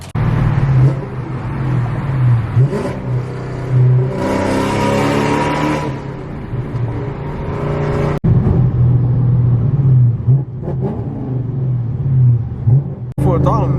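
The V8 in a 2018 Camaro SS, fitted with new headers and an E85 tune, idles with a deep, loud burble. It rises into a rev partway through and then settles back to a rumbling idle, with someone talking over it.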